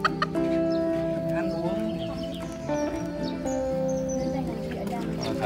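Vietnamese bantam chickens (gà tre) cluck steadily close by, with occasional crowing and small bird chirps mixed in, while people talk in the background.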